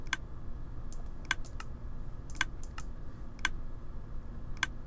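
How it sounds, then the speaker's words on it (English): A Minecraft redstone contraption in a Pixelmon server chicken coop gives off sharp, regular clicks, about one per second, close and crisp over a low steady background hum. "I actually have something activated at the moment and it makes a very annoying clicking sound"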